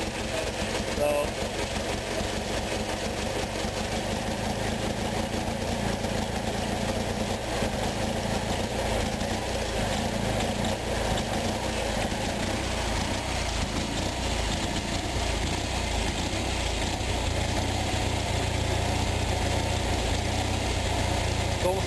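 An Onan engine idles steadily after carburetor work, a continuous close, low mechanical drone with an even rumble and no pauses throughout.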